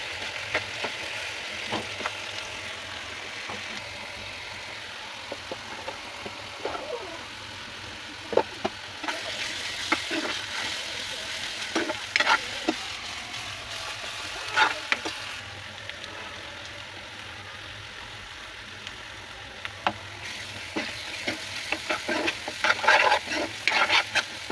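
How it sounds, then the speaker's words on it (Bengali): Onion paste and spices lightly frying in a pan, a soft, steady sizzle with occasional scraping clicks of stirring, fairly quiet and continuous with no voices. "পেঁয়াজ বাটা, এগুলো এখন হালকা ভেজে নেব"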